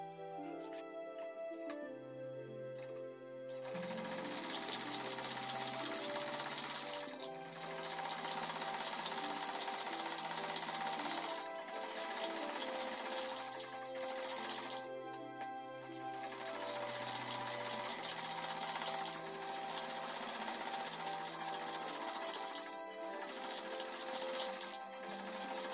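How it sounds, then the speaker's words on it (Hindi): A sewing machine stitches a suit sleeve in close, sustained runs with short pauses between them, its whirring motor holding a fairly even rhythm for most of the stretch. "तो आइए अब हम इस पर सिलाई लगा लेते हैं।"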